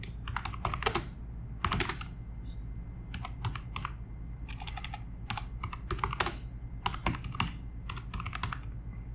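Keys clatter on a computer keyboard as a heading is typed, in uneven bursts of clicks over a low steady hum, fairly quiet and close.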